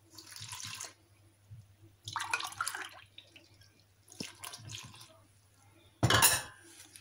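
Two glasses of water pour into a bowl of msemen dough in short bursts of splashing and trickling, with light clinks of dishes between pours, close and fairly quiet.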